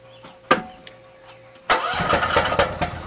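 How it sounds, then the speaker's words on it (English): A click as the key turns with the choke on, then a generator engine cranks and catches, settling into a loud, steady running rumble close by. "So in order to start the generator, all you do is choke the engine, turn the key."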